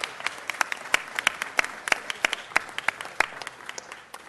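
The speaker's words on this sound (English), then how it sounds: "Let's give them another round of applause" A modest group claps at a city council meeting, distinct individual claps standing out over a light, continuous patter, fairly close and without talk.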